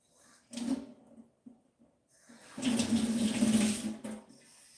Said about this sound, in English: now I put a little of the rice water on top